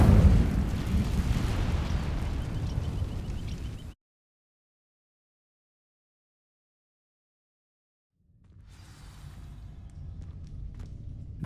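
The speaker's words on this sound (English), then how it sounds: "These dry vines are one spark away from becoming kindling." Incendio fire spell striking dry vines in Hogwarts Legacy, a loud roaring whoosh of flame that burns for about four seconds and cuts off abruptly, then silence before a quieter rumbling ambience fades back in.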